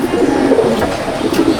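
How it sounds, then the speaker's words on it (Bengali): A pair of white Madrasi pigeons in a loft in Rajarhat, Kolkata, coo steadily at close range, with low throaty murmurs running continuously through the moment. "এই এক জোড়া মুন্ডি সাদা জেনারেশনের পায়রা দেখাচ্ছি"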